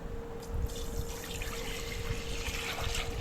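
Rice-washing water pours steadily into a new clay pot, a continuous close trickle and splash lasting the whole moment, with a faint steady hum underneath and no talking.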